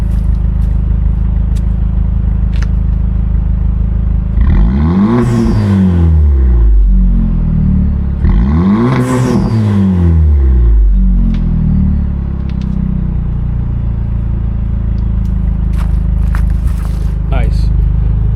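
A 2017 Chevrolet Malibu with a 3-inch exhaust to quad tips and its muffler and resonator deleted, recorded from behind: a deep idle rumble swells into two loud revs that rise and fall in pitch before settling back to idle.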